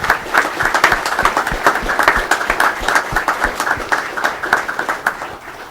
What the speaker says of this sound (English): I have to give them an applause for that